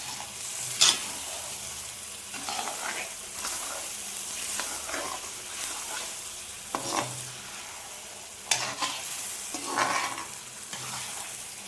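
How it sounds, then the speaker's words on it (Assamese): A metal ladle stirs chicken curry with tomatoes in a wok, giving repeated scraping clanks and knocks over a steady sizzle of frying, close up and with no talking. "এই হাতাখনেৰে কেৰাহীখনত অলপ বেছিয়ে শব্দ হয় বাৰু, কিন্তু এইখনেৰে লৰাই ভালো লাগে।"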